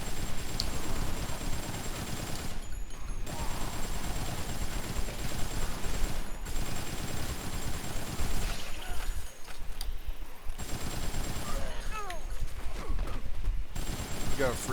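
Gunfire in the video game Dead Rising cuts through a dense, busy game soundscape of zombie hordes, with bursts of shots scattered across the stretch and brief drops in the background noise between them.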